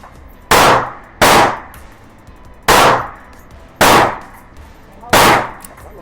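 Five loud, sharp gunshots from a ported CZ P10C pistol, spaced unevenly about a second apart. Each report decays briefly, with a low background hum between shots.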